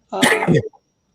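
A single close, loud sneeze, one short explosive burst ending abruptly.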